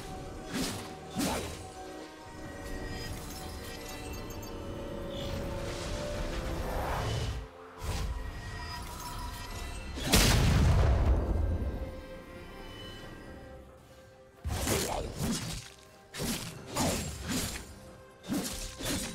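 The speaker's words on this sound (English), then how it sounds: "His turret has been destroyed." A League of Legends turret is destroyed amid a top-lane fight, heard as a string of crashing, shattering impacts and whooshes, with a big heavy crash in the middle followed by more sharp hits.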